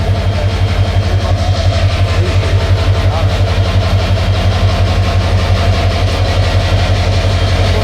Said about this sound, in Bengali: এটা হচ্ছে বুড়িমারি এক্সপ্রেস ট্রেনের ইঞ্জিন।